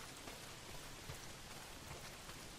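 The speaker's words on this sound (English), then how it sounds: "A lot of it's pissing down rain." Heavy rain pours down in the video game Days Gone, a dense, steady hiss of drops pattering on surfaces, even and continuous, fairly quiet with no voices.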